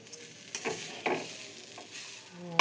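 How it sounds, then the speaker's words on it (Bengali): Pulao rice sizzles and crackles in a hot wok, with a few scraping stirs breaking through the steady frying hiss, fairly close. "কড়াইতে এখন ভেজে নিচ্ছি পোলাওগুলো"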